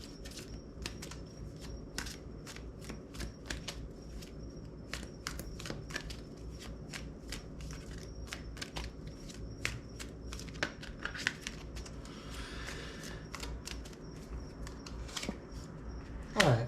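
Oracle cards being shuffled by hand produce rapid, crisp flicking and riffling bursts in an irregular rhythm, close and fairly quiet, with a louder rustle at the end and no speech.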